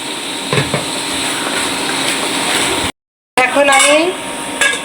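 Mashkalai lentil dumplings (bori) fry in a pan with potatoes and koi fish, giving a loud, steady sizzling hiss that cuts out briefly, then returns under someone talking.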